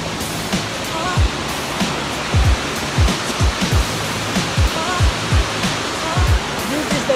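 Coomera Falls in Lamington National Park, Queensland, roars in a constant, close wash of falling water. Soft, low thumps recur irregularly beneath the roar. No one speaks.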